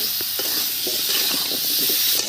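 Food sizzles steadily in hot oil in an Indian kadai (wok) while a spoon stirs it, with soft scraping strokes recurring under a continuous, close frying hiss.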